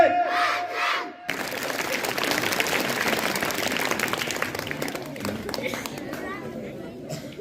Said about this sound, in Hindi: शानदार तालियों से पूर्ण जी का आप स्वागत करेंगे।